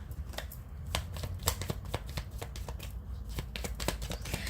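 Tarot cards being shuffled and flipped close up, a quiet run of crisp riffling snaps and soft slaps coming in irregular bursts.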